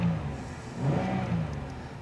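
A Chevrolet Impala's engine revs against its rev limiter near 4,000 RPM, a fairly quiet, steady mid-pitched drone that swells briefly in the middle with no voices.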